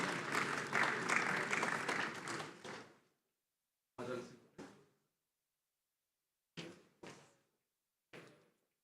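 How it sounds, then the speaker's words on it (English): Audience applause at the Lake Chad Basin Governors' Forum: a dense burst of clapping for about three seconds, then a silent gap and a few scattered, brief claps. "Applause, please."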